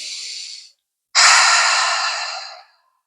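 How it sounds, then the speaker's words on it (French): During a yoga session, one person breathes deeply: a short airy exhale fades out, then after a brief pause a longer, louder breath rushes in and trails off over about a second and a half, close and clear. "Encore, inspire et expire."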